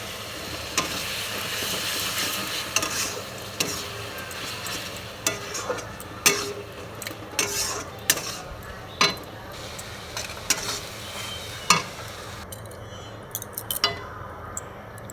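Fish curry broth for a small-fish jhol cooking in a pan, a close bubbling sizzle punctuated by frequent sharp clinks and scrapes of a utensil against the pan, with no one talking.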